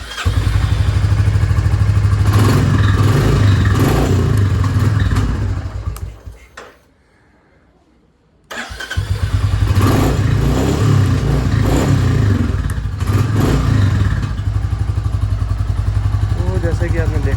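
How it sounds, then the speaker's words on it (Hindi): A Royal Enfield Classic Reborn motorcycle with EFI, started and revved hard in a loud, sustained engine roar, cut off by a brief pause before revving resumes, without any popping backfire. "तो हमने करा ये बाइक को स्टार्ट।"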